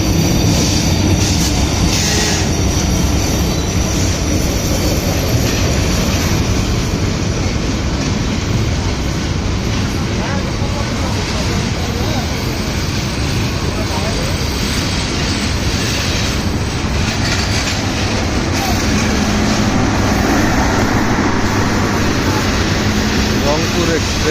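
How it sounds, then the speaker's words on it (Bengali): The Rangpur Express rolls into Tangail railway station: a loud, steady roar of wheels and carriages runs unbroken throughout, with squeals of wheels on rail and voices mixed into the din. "টাঙ্গাইল স্টেশনে ট્রেন আসতেছে।"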